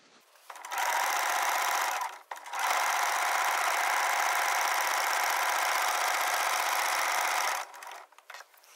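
A sewing machine stitches terry cloth for a burp cloth, running in a steady loud whir that stops briefly for a pivot at the corner, then continues for several seconds before halting.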